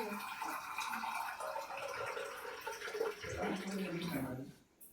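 Water is poured into tamarind water to make pani puri in a home kitchen. It trickles and splashes steadily for several seconds, then stops abruptly at the end.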